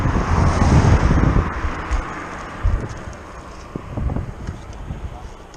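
Rumbling headwind buffeting the microphone of a group road cycling ride in uneven gusts, heaviest at the start, with a steady outdoor roar underneath.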